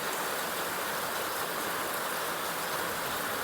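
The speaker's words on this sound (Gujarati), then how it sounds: "કેવો મસ્ત ઘટે નહીં એવો વરસાદ ચાલુ છે ભાવનગરમાં" Heavy rain pours steadily in Bhavnagar, a dense, constant hiss of water on surfaces that stays loud and even throughout, with no voices.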